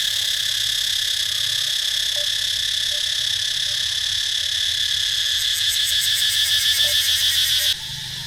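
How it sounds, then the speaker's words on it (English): Loud, steady high-pitched buzzing of cicadas at the Angkor Wat ruins in Cambodia, a continuous drone with a pulsing rhythm swelling near the end before cutting off, no talking. "The louder and more resonating that sound is by the cicadas, the hotter that means it is."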